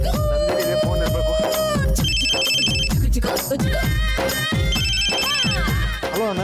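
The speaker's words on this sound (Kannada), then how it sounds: "ನಂದಿನಿಗೆ ಫೋನ್ ಇರ್ಬೇಕು." A telephone plays a melodic electronic ringtone in a Kannada TV serial scene, its bright tune repeating loudly over background music.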